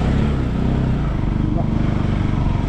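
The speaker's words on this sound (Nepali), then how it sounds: "बाइक त कतराङ कतराङ गर्छ" A motorcycle rides a rough mountain road toward a village, its engine droning loud and steady with a rattling, juddering texture throughout.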